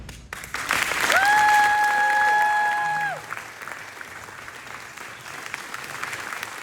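An audience applauds loudly after a student's emotional speech, with sustained dense clapping, cheering and a whistle-like tone, then easing into softer room noise.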